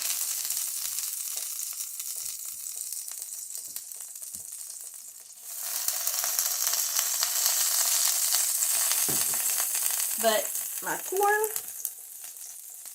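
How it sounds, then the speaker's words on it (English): Hoe cakes frying in bacon fat on a stovetop, a steady broadband sizzle that grows louder partway through and continues under a brief spoken word and a few short clatters near the end. "my hoe cakes are cooking because of the hot water that's in here"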